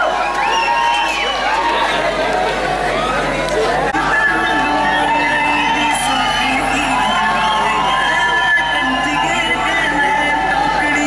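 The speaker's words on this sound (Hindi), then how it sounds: "जोरदार तालियों के साथ स्वागत कीजिए" A college fresher party crowd cheers, whoops and claps loudly to welcome a performer, a continuous wall of shouting, chatter and applause from many people close by.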